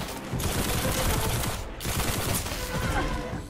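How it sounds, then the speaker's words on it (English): Heavy gunfire from a Destiny match, a dense run of loud, booming shots filling the clip with a short break partway through, close and continuous. "That thing is like a Barrett 50 cal shot"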